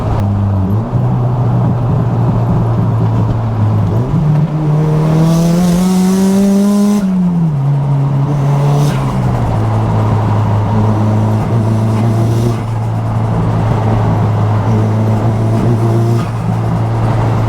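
Nissan S15 Silvia engine droning loud and close while driving, revs climbing then falling back with a turbo flutter as the throttle lifts, then settling into a steady cruise, no talk.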